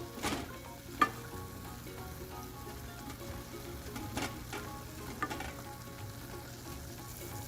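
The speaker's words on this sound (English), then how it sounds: "and I'm gonna fry it in the onions for 10 minutes on medium flame. Stir fry until it changes color." Minced keema stir-fries with onions over a medium flame, a soft continuous sizzle broken by a few sharp spatula scrapes and taps against the pan, no voices.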